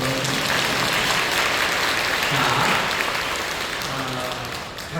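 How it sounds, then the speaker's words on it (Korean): A church congregation claps steadily and loudly in an indoor hall, sustained applause throughout that eases slightly toward the end. "박수 주세요"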